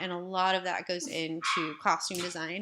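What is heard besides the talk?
dog barking in the background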